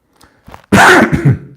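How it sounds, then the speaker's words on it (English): A single harsh, loud cough bursts out after a couple of soft breaths, followed by a rough, throaty rasp that trails off. "still got the cough"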